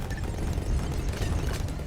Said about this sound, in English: Explosion noises.